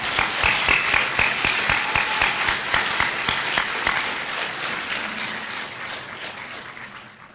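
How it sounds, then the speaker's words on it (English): An audience at an awards and recognition event applauding the sound technician, a dense, close round of clapping that starts strong and gradually thins out over about seven seconds. "So I think he deserves a round of applause."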